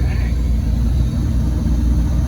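An old junk boat's engine idles on a lake, a loud steady low rumble holding even throughout without revving up.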